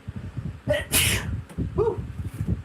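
A loud, forceful sneeze in a weightlifting training setting, a sharp burst followed by a short vocal exclamation, with some background noise around it.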